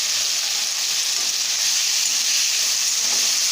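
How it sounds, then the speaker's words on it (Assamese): Spices, salt, turmeric and local fish stirred in a hot pan with fiddlehead fern greens and taro, giving a steady, loud, even sizzle and hiss throughout, close up with no voices. "ভালকৈ লৰাই দিছোঁ।"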